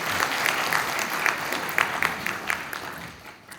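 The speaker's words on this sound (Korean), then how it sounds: "박수 부탁드립니다" Audience at a transport society conference opening ceremony clapping for an arriving society president, a moderate burst of applause with scattered sharp claps that thins out and fades by the end.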